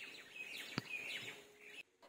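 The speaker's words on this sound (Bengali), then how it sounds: "চারিপাশে এত সুন্দর মৌসুম যে পাখিগুলো কিচকিচ কিচকিচ করে ডাকছে" Small birds chirp faintly outdoors near a small garden after rain, with repeated thin tweets and one sharp call partway through, then a sudden drop to near silence at the end.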